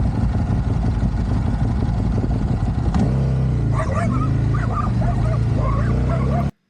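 Dogs bark in short, excited bursts close by on the Tunisian coast, over the steady drone of a Buell motorcycle riding along, with the yelps clustering in the second half.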